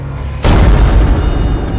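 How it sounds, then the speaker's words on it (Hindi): A loud explosion in Gaza bursts in abruptly with a deep boom, then a sustained low rumble and debris-like crackle trailing on without talk. "तब इस धमाके ने गजा से पहले पूरे इजराइल को दहला दिया"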